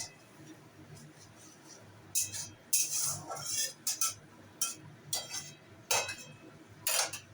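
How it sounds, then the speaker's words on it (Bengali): A lid set onto a cooking pot during home cooking of a paneer and drumstick dal, giving several light metallic clinks and clatters spread across the moment, close by under faint kitchen noise. "ঢাকনা চাপা দিয়ে রেখে দিলাম।"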